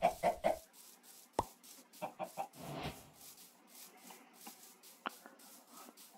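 Chickens cluck in the video game Minecraft, short clucks and scuffs scattered across the stretch, with bursts at the start and sporadic clicks later, fairly faint and sparse.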